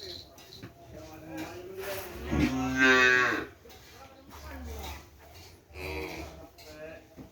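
Several Sapudi Island cattle moo loudly and close by, one long drawn-out low call in the middle followed by a shorter one, with people talking throughout.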